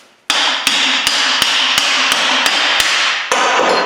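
Heavy hammer blows strike a seized rear wheel bearing on a Subaru Outback, nine sharp metallic hits in steady rhythm over a constant loud background roar, close and forceful.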